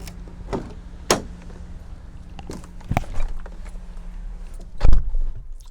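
Someone gets into a car, with a few thuds and clicks from the car door spaced over several seconds against a steady outdoor background hum.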